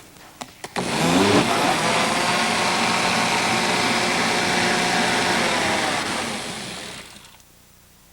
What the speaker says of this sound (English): And so we'll just blend this again.